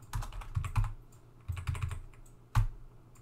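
Keystrokes on a computer keyboard while working in the Vim editor, a few short clusters of close, clicking taps separated by brief pauses, with no talking.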